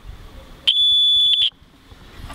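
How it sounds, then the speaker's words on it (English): A sharp, steady electronic tone from an opened-up Drawdio pencil circuit with its wire joined across the graphite, sounding loud and close for about a second before cutting off abruptly amid quiet room noise. "if I join this wire to the other end, it will make a sharp sound."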